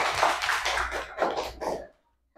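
Children applauding together in an elementary school classroom, a short burst of brisk, close clapping that stops abruptly after about two seconds.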